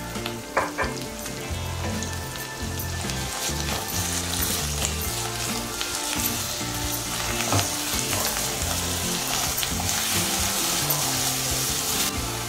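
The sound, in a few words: ginger garlic paste frying in pan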